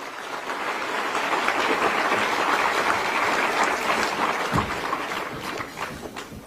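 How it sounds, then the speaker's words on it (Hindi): Loud applause from an event audience for a tree-protection team at a Delhi gathering, dense sustained clapping that runs evenly for several seconds before thinning out toward the end. "इस पूरी टीम के लिए एक बार जोरदार ताली।"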